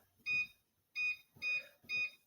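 A kitchen timer beeps four times in short, evenly spaced electronic chirps, faint and clear against a quiet room.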